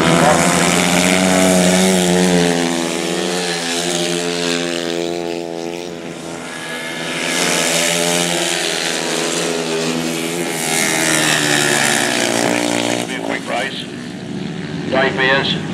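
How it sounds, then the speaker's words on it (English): 350cc grasstrack motorcycles race at a Frittenden pairs meeting, their engines a steady, loud droning roar that swells and fades while a commentator talks over it throughout. "On this super quick 350, leading the way, Mark Giles in second, Mark Taylor in third."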